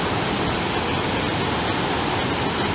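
Athirapally waterfall roaring as a steady, loud, broadband rush of falling water that fills the whole clip without a pause.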